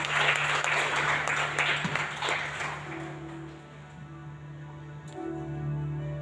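A church congregation at a Sunday worship service claps, a dense burst of applause that fades over the first few seconds and leaves a steady hum and faint taps, with no speech.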